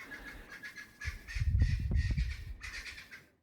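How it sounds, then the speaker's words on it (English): Birds calling in the wet-season bush on a Botswana safari, with harsh squawks and caws over a low rumble, fairly close and ending abruptly. "You can hear all the bird life here."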